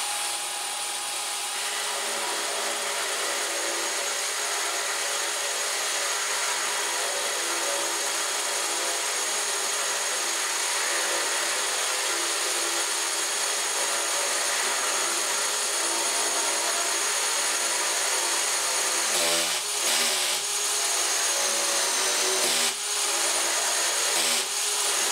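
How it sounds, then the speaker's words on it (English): A DeWalt DCD796 18V brushless cordless drill drives an aggressive 2-inch hole saw through marine plywood, a loud, continuous close-up whirring grind that holds steady, then stutters briefly near the end as the torque control kicks in. "I'm going to use this very aggressive hole saw, which is approximately 2 inches in diameter,"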